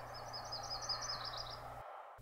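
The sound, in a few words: yellow-rumped warbler singing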